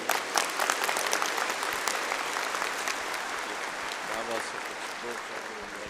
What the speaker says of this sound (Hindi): खूब ताली बजाइए।